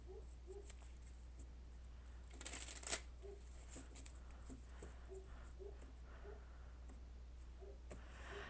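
Tarot cards shuffled quietly and continuously up close, a soft steady patter of card-on-card riffling with a slightly louder flurry partway through, over a low background hum.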